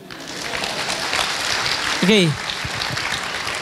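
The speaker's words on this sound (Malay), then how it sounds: "Tepukan gemuruh untuk dia." A crowd at an Islamic talk gives loud, sustained applause that carries through the whole stretch, with a man's brief spoken word rising above the clapping partway through.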